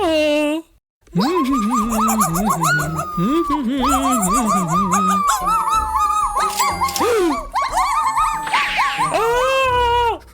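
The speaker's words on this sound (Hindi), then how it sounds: "कुत्ता।" A cartoon dog yips, barks and whimpers in quick, loud, high-pitched bursts after a brief silence, packed closely together with whiny sliding tones.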